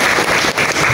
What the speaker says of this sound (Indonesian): Tepuk tangan dengan beliau.